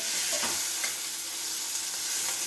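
Shrimp fry in ghee for a pulao, giving a steady close sizzle with a few faint stirring scrapes and no voices.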